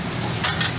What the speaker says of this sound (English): Look how many different meals he's Mongolian barbecue stir frying.